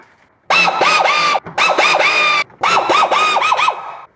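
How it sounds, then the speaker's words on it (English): A power tool backs out the 8mm bolts holding the access panel on a C8 Corvette, giving three loud, close whirring bursts with quick rising and falling pitch, separated by brief pauses. "In order to remove this access panel, you need to remove these series of bolts"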